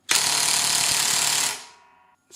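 An Onevan 20V brushless impact wrench runs at medium power, giving a loud, continuous rapid hammering buzz for about one and a half seconds before it winds down. A brief burst starts again at the very end.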